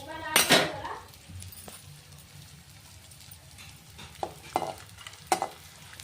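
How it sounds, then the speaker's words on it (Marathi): Edible gum (dink) frying a little at a time in hot ghee, with a soft sizzle under occasional clinks and scrapes of a spoon in the pan, and a louder burst near the start. "आता एक तूप गरम झालंय, त्याच्यामध्ये थोडं थोडं आपण डिंक टाकून तळून घ्यायचं छान।"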